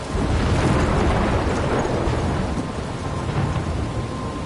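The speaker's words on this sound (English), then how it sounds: "I'm trapped in a storm?" A thunderstorm in the video game Life is Strange roars steadily throughout: dense, heavy rain hiss over deep rolling thunder rumble, loud and continuous with no voices.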